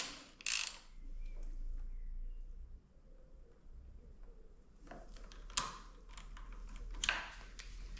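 A ratchet wrench tightens the front fork cap on a Ducati Scrambler 800. It gives quiet, close clicking bursts spread over the span, with a few sharper metallic knocks between faint pauses.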